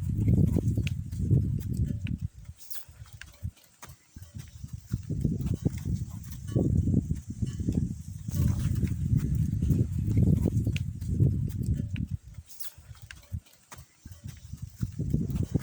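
Brahman heifers move about at a cattle auction on the Gweru showgrounds in Zimbabwe, giving a steady, close run of hoof shuffles and knocks on the ground that continues throughout with no talk.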